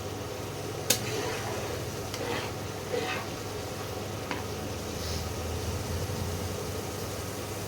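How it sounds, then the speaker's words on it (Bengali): Mustard and poppy seed spice paste frying in oil for a fish curry, a soft steady hiss under a low hum, with a few sharp ticks and brief spatters from stirring. "ভালো করে মশলাটাকে কষিয়ে তেল যখন ওপরে উঠে আসবে তখন জল দিতে হবে।"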